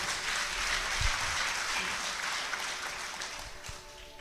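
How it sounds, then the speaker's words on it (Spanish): A church congregation claps after a sermon in Q'anjob'al, producing a steady, dense wash of applause that holds for several seconds and then starts to thin out, with some voices mixed in. "Un fuerte aplauso"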